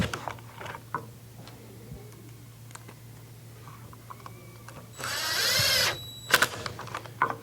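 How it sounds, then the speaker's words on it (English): A power drill drives a screw into pre-drilled holes in a trades table build. Quiet workshop ambience and a few light clicks lead up to a single, roughly one-second whirring burst, followed by some sharp knocks. "Put the screw back in. Should be easier this time because I've kind of got pre-drilled holes."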